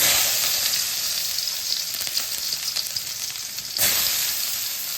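Onions fry in hot oil in a pan for egg bhurji, giving a steady bright sizzle with small crackles and a brief louder burst near the end, close by and with no talking.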